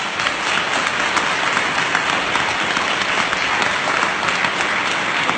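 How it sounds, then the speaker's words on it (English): A room full of people applauding staff during an evening speech, a dense, steady wash of clapping that holds at an even level for several seconds. "give them a big round of applause"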